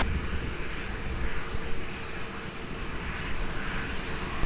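An aircraft taking off at Lisbon Airport, heard as a continuous loud rumbling engine roar that holds steady for a few seconds, with no speech.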